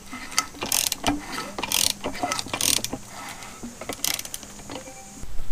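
A ratchet wrench clicks in quick bursts while tightening cam caps on a Yamaha YZ450 dirt bike engine during a top-end rebuild, close metallic ratcheting with short pauses between strokes.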